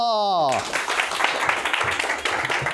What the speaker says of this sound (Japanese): じゃあ皆さん大きな拍手からどうぞ。